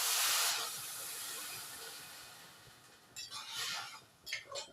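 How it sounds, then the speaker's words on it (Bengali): Water poured into a hot pan of fried vermicelli gives a loud burst of hissing steam that fades into a steady low sizzle, followed by a few quieter bursts of sputtering, close by with no talking. "এর মধ্যে আমি জল দিয়ে দিই"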